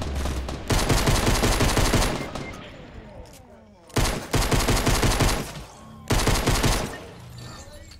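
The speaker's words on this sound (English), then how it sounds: "Pick up this first assault rifle." Automatic assault rifle fire in the video game Fortnite, heard as three loud sustained bursts of rapid shots separated by brief pauses, with a faint background voice.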